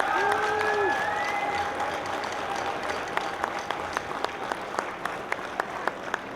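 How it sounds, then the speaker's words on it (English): At an evening Honor Flight Columbus mission event, a large crowd breaks into sustained applause for Nationwide, the dense clapping filling the room, with a few whoops and whistles early on and sharper individual claps near the end. "I need a huge round of applause for Nationwide and all their support."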